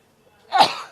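A single sharp cough bursts out close by, abrupt and breathy, following a brief quiet moment.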